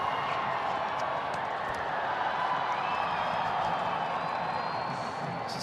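Cricket crowd at the Adelaide Oval, a steady broad roar of many voices that holds at an even level throughout, without distinct bursts of clapping.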